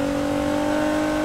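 In Need for Speed Heat, a Nissan GT-R R35 fitted with aftermarket exhaust pipes holds a loud, steady high-rev engine drone for a brief moment, with no talking.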